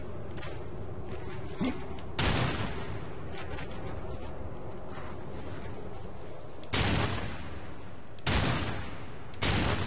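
Gunfire from the video game Darksiders 2: four loud, broadband shots spaced several seconds apart over a steady low ambient game rumble, no talk.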